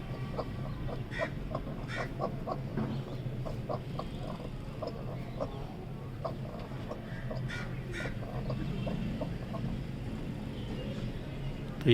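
A hen settled on her eggs in a poultry pen clucks in repeated short soft notes, joined by other chickens nearby, over a steady low background murmur.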